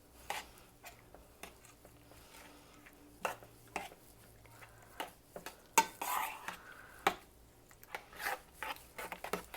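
Seasonings with parsley and oregano are stirred together in a bowl, producing irregular scraping clinks and taps of a utensil against the dish, close and moderately loud.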